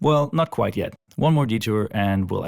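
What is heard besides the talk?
No everyday noise stands out behind the speech.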